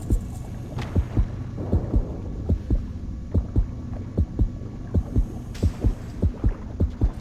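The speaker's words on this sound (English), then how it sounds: "I heard the heartbeat for a bit, then the heartbeat went away" A shark heartbeat in the underwater game Depth thumps as a steady run of deep, muffled beats over a low constant hum, fairly close and with no voices.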